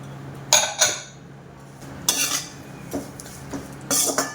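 Thin, upright-cut coconut slices roasting in a pan for a thin-poha chivda, stirred with a spatula: about five separate bursts of metallic scraping and clinking with quiet gaps between, close and with no talking.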